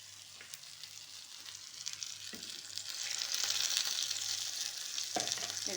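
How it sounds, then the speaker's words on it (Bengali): Ginger and garlic sizzle in a pan for mutton paya soup, a steady hissing fry that swells louder midway, with occasional stirring clinks and no talking. "দেখুন আদা রসুনটা আমার ভাজা হয়ে গেছে"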